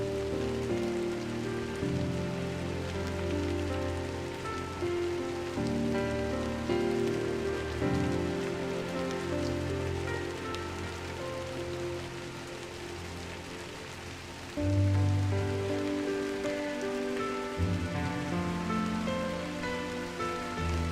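Steady light drizzle ambience from the video game Drizzlepath: Genie, a continuous soft patter of rain on surfaces beneath a low, sustained musical drone, with no voices.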